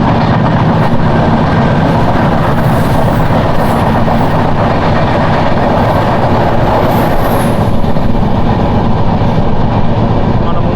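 Garib Rath express train from Yesvantpur to Secunderabad running on rails, a loud, steady, continuous rumble of wheels and carriages with clickety-clack throughout, recorded close up from on board.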